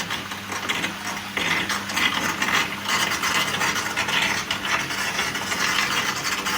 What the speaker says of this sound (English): with the sump pump, I'll just basically turn that on there